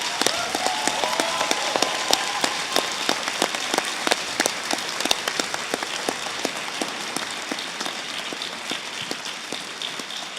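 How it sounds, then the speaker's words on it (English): A graduation ceremony audience gives the staff a round of applause. Steady, dense clapping runs throughout with many sharp individual claps standing out. "a round of applause to them."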